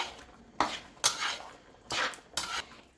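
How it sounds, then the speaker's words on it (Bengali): Tomato chutney being stirred in a pan, heard as four separate scraping sweeps of a utensil against the metal, close and fairly quiet, with short pauses between them. "দিয়ে ভালো মতো নেড়ে দিচ্ছি"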